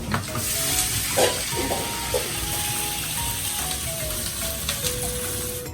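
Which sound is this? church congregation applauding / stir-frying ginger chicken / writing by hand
stir-frying ginger chicken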